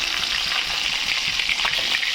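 Katla fish head frying in hot oil in a covered pan, a dense, even crackling sizzle that holds steady and close for the whole stretch.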